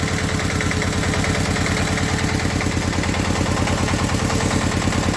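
A tractor engine idles steadily during hydraulic cylinder repair work, its dense, even low rumble chugging evenly and loudly from start to finish with no voices over it.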